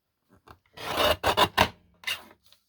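Paper snack box being trimmed for a gingerbread-themed journal, close rasping cuts and rubs in a few short bursts, fairly loud with quiet gaps between, and no talk.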